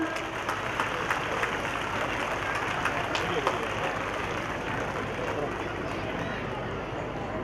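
At a school annual day celebration, an audience of parents claps for the children and teachers with sustained, steady applause from many hands at a moderate level, while a voice carries on underneath.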